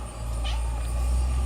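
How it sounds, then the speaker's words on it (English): A cat meows once, a short, fairly clear call heard close by over a steady low background hum, with no one talking. "Another cat."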